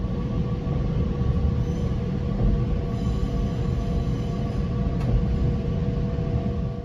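A Metra Electric commuter train rumbles steadily along the Blue Island Branch toward Millennium Station, heard from inside the car as a continuous low roar of wheels and motors with faint rail clicks and a brief squeal.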